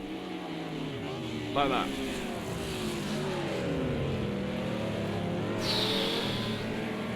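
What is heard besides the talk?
Audi GT race car engine revs dropping in Project Cars 2 video game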